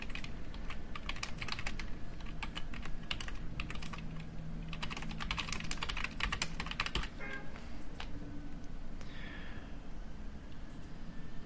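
Steady, rapid clicking of a computer keyboard being typed on, continuous and close, with brief pauses near the end.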